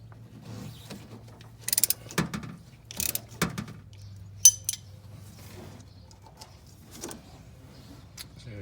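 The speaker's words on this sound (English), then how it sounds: "the first thing I got to do is take off this screw down here on the bottom of the rag joint" A screw is worked off the rag joint of a 1973–1994 Chevy steering shaft, with bursts of ratcheting clicks and metallic rattles between short pauses, close and moderately loud.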